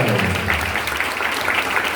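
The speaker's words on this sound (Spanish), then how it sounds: "Señoras y señores, fuerte aplauso para Carmen Mirabal." A studio audience on a Spanish-language talk show gives a steady, dense burst of applause that stays loud and even throughout.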